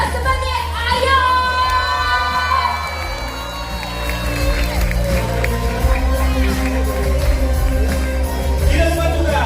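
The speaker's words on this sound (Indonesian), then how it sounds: "Hadirin sekalian, berikan tepuk tangan yang meriah." A large audience at a school musical drama performance cheers and claps continuously, a loud crowd roar with whoops and children's shouts, music and voices blending underneath throughout.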